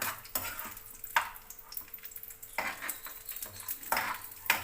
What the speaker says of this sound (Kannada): ಫಸ್ಟ್ ದ್ರಾಕ್ಷಿ, ಗೋಡಂಬಿನೆಲ್ಲ ಚೆನ್ನಾಗಿ ಫ್ರೈ ಮಾಡಿಕೊಂಡು ತೆಕ್ಕೊಂಬಿಡೋಣ